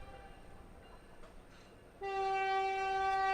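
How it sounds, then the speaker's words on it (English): A passing train near a baseball game sounds a loud, sustained multi-tone horn that starts suddenly after a quiet stretch of distant background noise and holds to the end. "That's an odd train horn."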